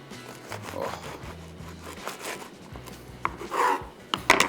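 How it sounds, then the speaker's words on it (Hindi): Serrated bread knife sawing slowly through a beef cheeseburger bun, a series of close, soft rasping and crunching strokes with brief pauses between them. "आमतौर पे ये ब्रेड नाइफ़ कहलाती है और इसको आरी वाली नाइफ़ कहते हैं। आराम से इसको बिल्कुल आरी जैसे ही चलाना है।"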